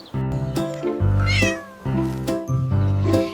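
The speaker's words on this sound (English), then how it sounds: "Kitten mewed a tiny call" A series of close, loud kitten meows, four or five drawn-out harmonic calls in quick succession with short gaps, some rising into a strained wail.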